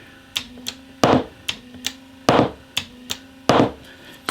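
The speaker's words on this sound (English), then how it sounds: "when I engage the clutch with this switch" An electromagnetic clutch engages a sprocket wheel to drive a hammer mechanism, giving a steady rhythm of sharp mechanical clacks with a heavier strike about every second, over a faint electrical hum.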